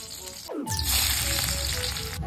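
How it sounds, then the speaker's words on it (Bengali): Refined oil hits a hot pan at home while pasta is being cooked and breaks into a loud, steady sizzle that starts abruptly and keeps hissing close by. "তো একটু রিফাইন অয়েল দিয়ে দিচ্ছি আমি"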